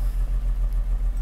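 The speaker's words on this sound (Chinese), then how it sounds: "它转速掉下来，因为它这部车子是没有这个年代1985是没有那个自动怠速功能，所以说它转速会掉下来" A 1985 Mercedes-Benz R107 280SL engine idling low after being put into reverse, a close, rough rhythmic pulsing lump with no idle-speed control, steady and loud with no voices.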